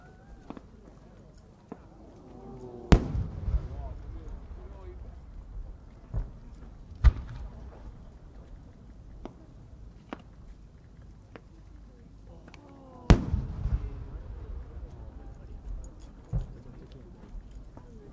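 Fireworks burst at the Omagari fireworks competition in 2023, heard as distant booms and sharp cracks spread across the night, two louder blasts standing out amid scattered pops and a low crowd murmur.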